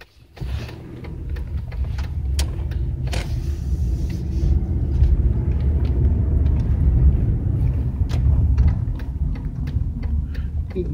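A 2001 Buick Century's 3100 Series V6 engine idles close up with a steady low rumble, broken by occasional sharp ticks and clicks, no talking.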